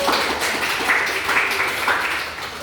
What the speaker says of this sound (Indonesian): beri tepuk tangan ke Pak Francis